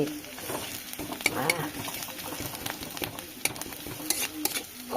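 Grated taro fries in hot oil with a steady, close sizzle while a utensil scrapes and stirs it in the pan, producing irregular clinks and scrapes throughout.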